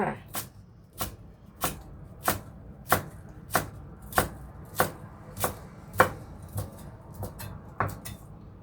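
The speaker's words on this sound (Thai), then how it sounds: "เราหั่นให้ละเอียดเลยจ้า" A knife chops rapidly on a cutting board, finely mincing coriander in a steady, even rhythm of about fourteen crisp strokes.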